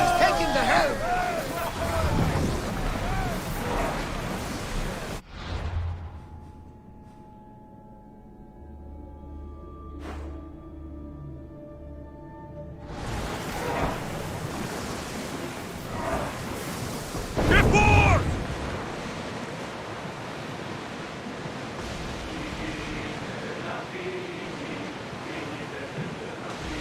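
A ship cuts through ocean waves in Assassin's Creed Odyssey on PlayStation 5, with loud surging water and wind roar that drop away for several quiet seconds and then return with a heavy splash, while a voice speaks over it.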